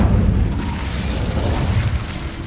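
An Incendio fire spell cast in Hogwarts Legacy, a loud low whooshing burst of flame that rumbles and crackles for a couple of seconds, close and alone.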